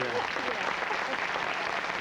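Audience applause at a 1981 MGM salute tribute show honoring Ann Miller, Cyd Charisse, Kathryn Grayson and Van Johnson, heard as a steady, dense wash of clapping that fills the whole stretch, with voices mixed into it.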